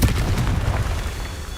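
A Confringo spell explodes in Hogwarts Legacy, a deep, rumbling boom that fills the short moment with sustained low-end roar and no voices over it.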